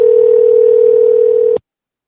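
A telephone dial tone hums as a call is placed, one steady loud tone held for about a second and a half before cutting off abruptly into silence.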